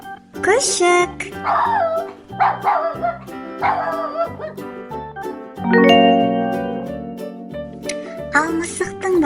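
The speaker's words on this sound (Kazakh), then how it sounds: "күшік." Cartoon puppy yipping and barking in a children's animated farm-animal lesson, a run of short high yaps and whimpers over bouncy background music, fairly loud and close.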